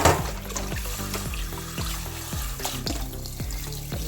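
Mutton pieces are washed in water for soup. Water splashes and trickles with repeated sloshes and pours at an uneven rhythm, close and moderately loud, with no talking.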